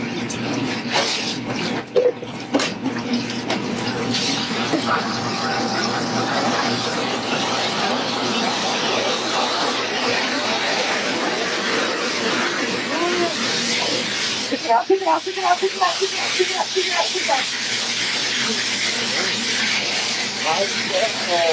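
Ice dropped into a hot deep fryer sets off a loud, continuous hiss and sizzle of spattering oil, with an abrupt surge of bubbling crackle partway through.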